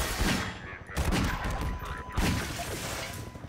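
Gunfire in the video game Half-Life 2, a rapid burst of shots followed by several more scattered bursts, loud and close with echoing crackle and game noise.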